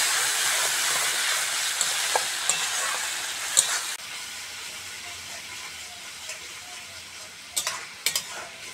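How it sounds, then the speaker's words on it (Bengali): Spice masala with tomato puree, cooked for a crab curry, sizzles in a pan with a fairly soft, steady frying hiss and a few sharp scrapes of stirring, close with no voices. "এবার সব মশলাগুলো ভালো করে কষে নেব।"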